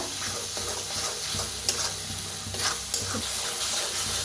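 Kolhapuri red masala of onion, garlic and whole spices frying in oil for a village-style chicken dish, stirred steadily with a spoon, a close continuous sizzle broken by a few louder scraping strokes.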